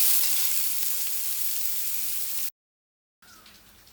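Sliced onions sauté in a pan for a tapioca roast, giving a steady, bright hiss of sizzling oil. The sound holds evenly, cuts to silence for under a second, then returns more quietly.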